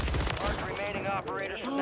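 Video game gunfire rattles in quick, continuous bursts while a voice talks over it.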